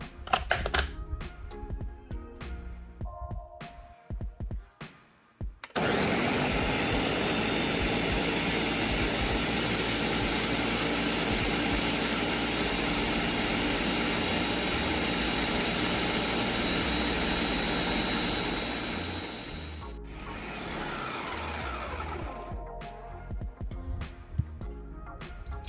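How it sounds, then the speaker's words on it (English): A blender whirs loudly and steadily as it purees papaya, apple, sugar, milk and water. Clattering and handling noises come before it, and the motor changes pitch partway through before it stops near the end. "Now cover it up and let's blend."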